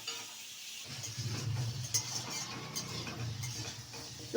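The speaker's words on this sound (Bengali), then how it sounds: "এবার এটা একটু ভাজা ভাজা হবে।" Pumpkin shoots and leaves cooking with turmeric in a pan, a steady low sizzle with stirring scrapes and a few light utensil clinks throughout, no talk.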